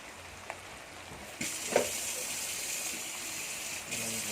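Water is poured into a pan of pangas fish curry (bhuna) with tomato, setting off a sudden rushing hiss and sizzle that holds steadily at moderate loudness after a few faint clicks.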